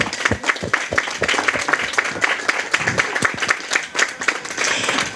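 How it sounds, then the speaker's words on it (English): An audience at a ceremony honouring everyday Nevisian heroes breaks into warm applause, a busy patter of many hands with a few sharper claps standing out, holding steady for several seconds. "that deserves a round of applause"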